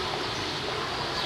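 Water splashing in an animal enclosure at Zoo Berlin, a steady close wash of broadband splashing that fills the brief moment with no voices.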